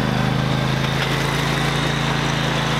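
A riding lawn mower engine runs steadily and loudly, a continuous rumbling drone without pauses.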